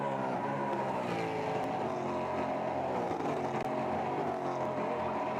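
Ford Mustang race cars in the IMSA Mustang Challenge roar down the back straightaway at Circuit of the Americas, a steady, moderately distant engine drone with layered revving tones throughout.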